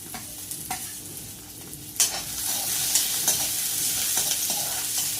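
Onion and green chillies frying in a pan for beetroot pulao, a steady broadband sizzle with scattered clicks and scrapes of stirring, close and moderately loud throughout.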